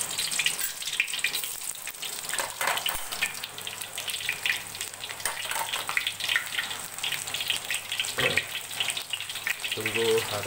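Chopped onions sizzle and fry in a hot pan in a home kitchen, a steady hiss of spitting oil running throughout at close range, with a few clinks and bumps and some talk over it.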